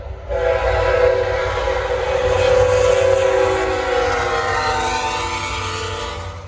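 A Norfolk Southern freight train passes close by, its horn sounding a long, loud, sustained blast over the heavy rumble of rolling cars.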